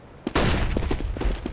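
Flashbang grenade going off in Counter-Strike Global Offensive, a sudden loud blast followed by a sustained harsh ringing burst with a few thuds inside it.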